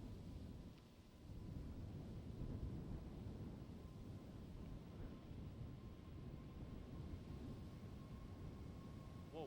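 Airbus A320neo jet departing Schiphol Airport runway 36L for Copenhagen, a deep rumbling engine roar that swells after the first second and stays steady and fairly distant, with a faint whine above and some wind buffeting.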